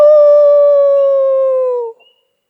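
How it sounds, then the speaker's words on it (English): A single loud, close howl sounds at night at a solitary wilderness campsite, holding a steady tone for about two seconds before dropping off abruptly into silence. "Actually, let's see if we can get the wolf to howl back."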